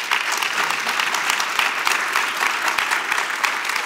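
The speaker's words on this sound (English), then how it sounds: "Give these folks a round of applause," An audience at a community gathering claps steadily for a few seconds, a close, full burst of mixed hand claps with no talking over it.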